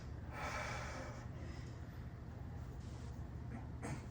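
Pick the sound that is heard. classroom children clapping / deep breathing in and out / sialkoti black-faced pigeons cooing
deep breathing in and out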